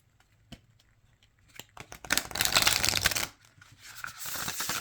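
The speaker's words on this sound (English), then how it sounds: "that is a riffle shuffle" A deck of cards riffle shuffled up close: a few soft taps, then a dense, loud fluttering burst of cards interleaving, followed by a quieter second riffle.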